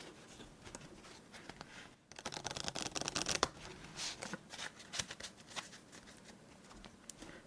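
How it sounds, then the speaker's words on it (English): Playing cards are shuffled for a Windmill solitaire game in a quiet ASMR setting, with close riffling bursts and soft flutters after a brief pause, no talking. "But that's enough shuffling."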